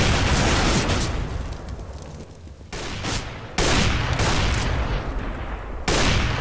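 Decoy grenade in Counter-Strike: Global Offensive imitating sniper rifle fire: a few loud, booming shot-like bursts a second or two apart, each sustaining a roaring echo, close and forceful, with no talking.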